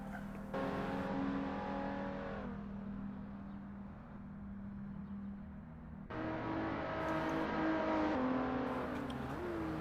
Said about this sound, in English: This is the Lotus Exige S Roadster.